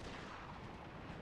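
Artillery firing canister shot in the Napoleon Total War video game: a dense, continuous roar of blasts that fills the whole moment at a steady, loud level, with no pause.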